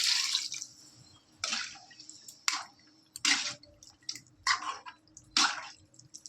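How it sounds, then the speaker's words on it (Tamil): Water trickles and drips into chicken curry simmering in a pan, arriving in several short, bright splashing bursts with quiet gaps between them, close and moderately loud. "இந்த நேரத்தில் நம்ம கொஞ்சம் தண்ணி சேர்த்துக்கலாம்."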